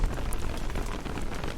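Rain falling in the video game Don't Starve Together, a continuous close patter of drops striking surfaces, dense and steady with no talking.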